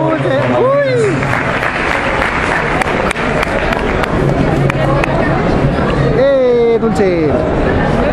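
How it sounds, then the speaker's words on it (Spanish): An audience at a live Mexican show applauds and cheers loudly and continuously, with a crowd clapping and shouting while voices call out over the noise. "¡Un aplauso, Dulce!"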